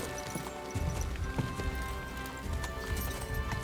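Galloping horse hooves in the medieval video game Kingdom Come: Deliverance, a loud, steady drumming clip-clop over a constant rumble of movement throughout.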